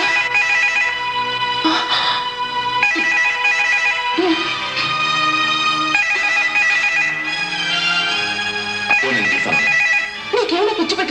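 A mobile phone ringtone plays loud and close as a repeating melodic jingle of bright electronic tones, carrying on steadily for several phrases with no voices over it.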